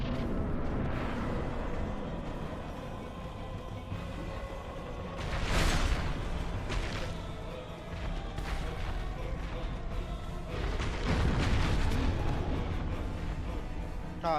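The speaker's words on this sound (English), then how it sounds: "Ah, nice explosion." Explosions in the video game Dark Souls Remastered boom and crash over a dense, loud game soundscape, with two strong bursts roughly six seconds apart.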